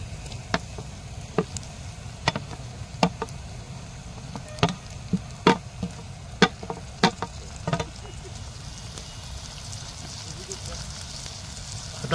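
Tomatoes frying with ginger garlic paste in a clay pot: a low, constant sizzle close by, punctuated by a dozen sharp knocks and clinks of a spoon against the earthenware.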